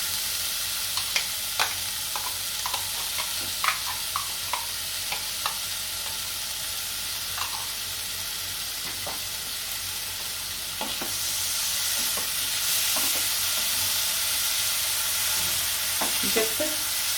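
Chopped tomatoes fry with vegetables in a pan, a constant bright sizzle overlaid with scattered soft clicks and scrapes from stirring, swelling slightly louder partway through; close, steady, and without speech.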